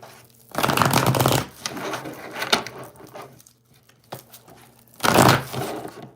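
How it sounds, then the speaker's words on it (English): Tarot cards shuffled by hand in two quick riffling bursts, close and crisp, separated by quieter handling rustles, with no talking. "Let's see, let's shuffle."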